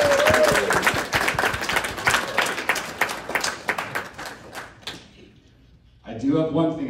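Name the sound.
round of applause at a wedding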